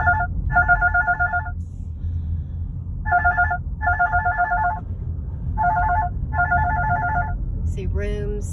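A phone rings with an incoming call in three double-ring bursts, a bright warbling tone over a low steady rumble, and a brief voice is heard at the very end.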